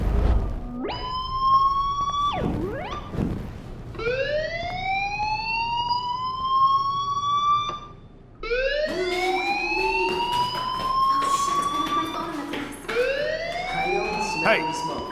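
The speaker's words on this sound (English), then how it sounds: "do you hear that fire alarm? That means you should be outside" Rising and falling alarm tones from the Life Is Strange video game, repeated in several swooping sweeps that stay loud and steady across the scene, with brief breaks between them.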